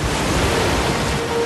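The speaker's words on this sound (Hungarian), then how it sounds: "Egyébként hihetetlen hullámverő masinát gyártottatok." Wave-making machine churning out surf sounds, a dense, continuous rushing wash of water noise, loud and steady with no voices.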